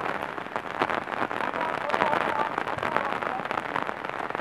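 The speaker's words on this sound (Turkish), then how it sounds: "Çok fazla şiddetlendi yağmur." Heavy, steady rain pours down over an outdoor amateur football match in İzmir, a dense, continuous hiss with scattered crackling drops running throughout under the general din.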